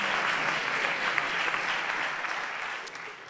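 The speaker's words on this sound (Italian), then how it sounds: "un applauso al capitalismo." An audience gives sustained applause at a live comedy set, dense and steady clapping that holds for several seconds before easing off slightly toward the end, with no voices over it.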